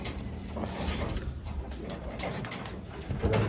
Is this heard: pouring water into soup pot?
no